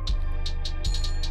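An electronic beat plays with its master pitch bent down an octave and rising toward normal: dense sustained low rumble, a few deep thumping kicks and repeated bright hi-hat-like hits in a steady pattern, no talking.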